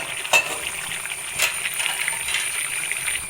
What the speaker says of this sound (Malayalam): ഇടയ്ക്ക് ഇതുപോലെ മൂടി തുറന്നിട്ട് നമ്മളിങ്ങനെ ഇളക്കി കൊടുക്കണം കേട്ടോ